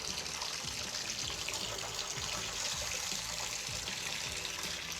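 A Delta shower faucet turned all the way to hot, running at full flow: a steady, fairly quiet hiss of spraying water with no talk, unchanging throughout.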